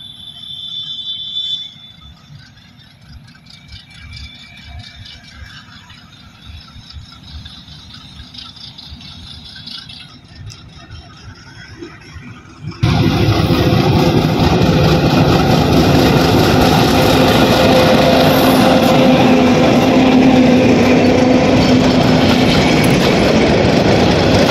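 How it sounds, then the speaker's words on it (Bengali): Far-off rail noise gives way to a sudden loud roar as a train comes alongside and keeps rumbling past at close range, filling the sound for the rest of the stretch. "ওই যে দেখেন ট্রেনে আয় পড়তেছে।"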